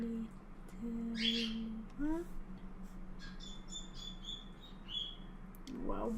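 A three-month-old pet bird chirps and makes short squeaky whistles and babbling calls, scattered and fairly faint over a steady low background hum, with a louder chirp near the end.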